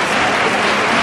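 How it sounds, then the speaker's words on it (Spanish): Theatre audience in the stalls applauding a carnival comparsa after its second pasodoble, a dense, steady wash of clapping close and loud throughout, with no talk. "El patio de butaca que se levanta para aplaudir a esta comparsa y a este segundo paso doble"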